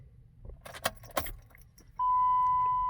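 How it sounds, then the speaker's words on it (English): Keys jangle a few times near the microphone before a Jeep Wrangler JK engine starts, followed by a steady tone that holds to the end. "I'm gonna start up the car."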